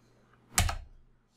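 Quick keystrokes on a computer keyboard while setting up a virtual wireless LAN controller lab: one brief, soft cluster of clicks in an otherwise quiet room.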